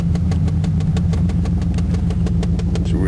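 An old truck engine idles steadily, its low rumble carrying a regular rapid ticking pulse throughout, close and fairly loud with no talking.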